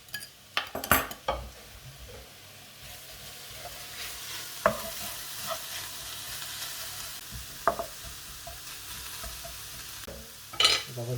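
Beaten eggs mixed with parsley and chard are stirred briskly, with quick clinks of a utensil against the bowl or pan over a faint sizzle and scattered sharper taps.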